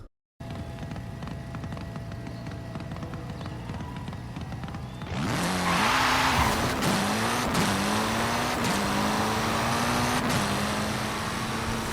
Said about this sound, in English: I know this is Tufter3000 by the sound of his Lamborghini Centenario